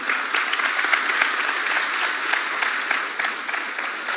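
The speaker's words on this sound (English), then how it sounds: "So give a big round of applause to him." Audience applause welcoming the chief guest at a regional conference in a convention hall, a dense, steady wash of many hands clapping at moderate loudness throughout.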